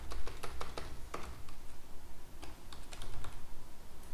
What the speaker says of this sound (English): if you click add item and I start typing